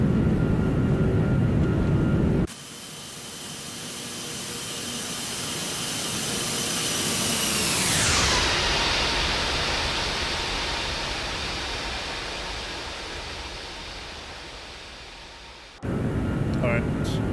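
A Lufthansa Airbus A340-600 jet airliner roars past in a flyby: the jet noise swells, its pitch sweeps sharply downward as it passes, then the roar slowly fades away.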